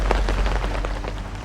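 Heavy rain drums on surfaces at a campsite near Metro Manila, a steady close patter with scattered louder drops and no one talking.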